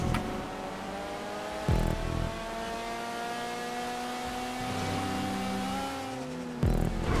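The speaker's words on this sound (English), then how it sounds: "The car has a freaking turbo." A turbocharged car engine in GTA V Online drones steadily at high revs, with rising and falling tones as the car shifts gears and short bursts of louder noise, and no talking.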